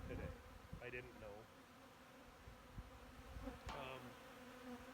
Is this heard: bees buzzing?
yes